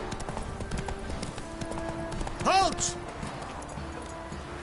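Roach the horse's hooves clip-clop steadily in The Witcher 3, moving at a walk or trot under constant game ambience, with a brief loud shouted voice midway.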